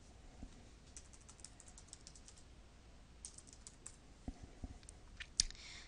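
Someone types on a computer keyboard to enter a web link, producing quiet, close key clicks in quick bursts with short pauses and a few sharper taps near the end.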